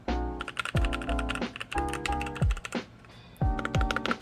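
Rapid typing on a cheap keyboard fitted with lubed AKKO Rose Red switches, a close, deep thocky run of keystrokes in bursts with short pauses between them.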